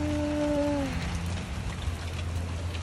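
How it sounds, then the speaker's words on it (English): Rain keeps falling in Red Deer, Alberta after a hailstorm stops, a soft steady patter with a brief tonal whine fading out at the start. "still raining, but the hail is stopped now"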